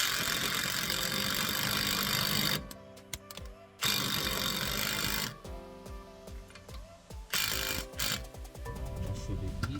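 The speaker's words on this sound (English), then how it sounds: "then we'll switch to our impact wrench with our 32mm socket right there" Impact wrench with a 32mm socket driving down the front driver-side wheel hub nut on a 2013 Toyota RAV4, heard as several rattling mechanical bursts with gaps in a workshop.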